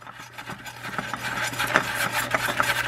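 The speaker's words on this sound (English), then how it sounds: "hand tighten your replacement filter" Oil filter being spun by hand onto a GM 3.5L engine, a close, steady rasping rub with rhythmic gritty strokes of the canister against the mounting.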